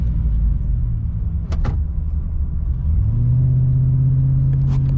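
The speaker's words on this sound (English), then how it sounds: "throw it in neutral and just bounce it off the limiter" The engine of a 2006 Chevy Silverado pickup with a Moosun cold air intake rumbles loud and close, then swells into a sustained high rev, held hard in neutral.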